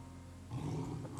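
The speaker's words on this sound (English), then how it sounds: "Lions roar." Lions roaring as a sound effect: a low growling roar swells in about halfway through and holds loud and rough to the end, with no talk over it.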